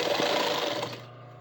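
Sewing machine running fast and steady while stitching a folded corner of a back pocket, a loud continuous whir that slows and fades out near the end.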